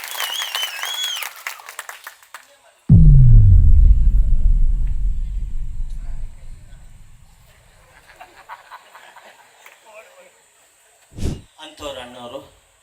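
An audience at a birthday tribute event for Dr Rajkumar bursts into loud applause right after a speaker's words, the clapping rising sharply then fading away over several seconds, with a brief voice and some noise near the end.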